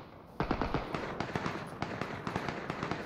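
Rapid bursts of video game gunfire in PlayerUnknown's Battlegrounds, many sharp cracks in quick irregular succession, fairly distant and muffled, continuing throughout.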